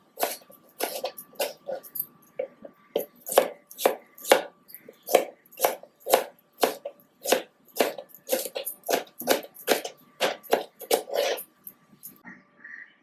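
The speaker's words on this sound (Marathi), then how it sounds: "कांद्याबरोबर 2 टोमॅटो सुद्धा चिरून घ्यायचे बारीक." Tomatoes are chopped with a knife on a board in a quick run of sharp, close knocks, about two dozen cuts in a steady, slightly uneven rhythm against a quiet background.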